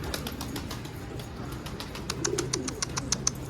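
Pigeons coo softly in a repeating rhythm with a flutter of wings, under a faint outdoor hum, at moderate distance.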